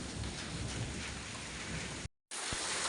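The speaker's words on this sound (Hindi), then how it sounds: "ओले थोड़े कम हो गए देखो ये, और बारिश में तब्दील हो सकता है ये।" Hail easing off into steady rain, a dense, loud drumming wash of drops hitting surfaces outdoors that cuts out briefly near the end before resuming.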